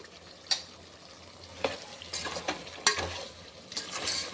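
A vegetable dum biryani mixture is stirred in a pot under a low steady sizzle, with scattered scrapes and clinks of the spoon against the pot.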